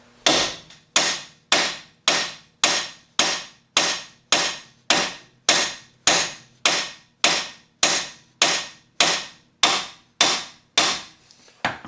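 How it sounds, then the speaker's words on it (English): Steady, evenly spaced hammer blows on a rusted Mazda 3 front strut knuckle assembly, about a dozen and a half loud metallic strikes in a regular rhythm, close and alone. "give this front knuckle assembly a wiggle as you're hitting it to loosen it up"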